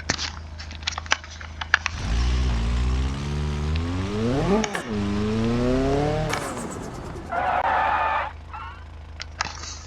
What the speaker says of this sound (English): the front wheels are locking up a little bit sooner than I'd like them to